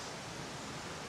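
A waterfall in Dyserth, North Wales, pours as a steady broadband rush, close and continuous, filling the whole short moment with no voices over it.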